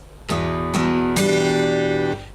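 An acoustic guitar plays the opening chord of a strumming pattern: three bright, close strums, the last ringing longest before it is cut off.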